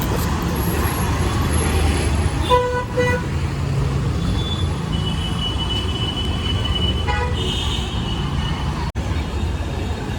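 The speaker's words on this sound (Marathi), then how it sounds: "ट्रॅफिक तर जाताना भरपूर होताच" Dense road traffic roars continuously, with engines rumbling and a few short car horn toots sounding partway through.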